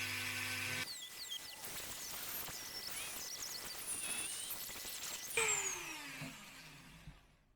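A power drill whines and grinds steadily through hard antler for several seconds, its pitch shifting as it bites, then winds down and stops.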